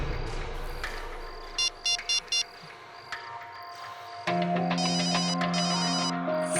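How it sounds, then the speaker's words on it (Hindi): A mobile phone ringtone chirps in three short bursts, then rings continuously and louder with a bright electronic melody, in a Hindi TV drama scene. "फोन यहाँ आसपास ही बज रहा है"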